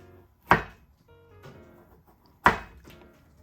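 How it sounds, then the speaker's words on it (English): A knife slices a vegetable on a cutting board for a spinach kale salad: two sharp, loud chops about two seconds apart, with lighter taps between, close up and with no talking. "Now I cut it again. Now what I do with it is that I actually cut it into slices"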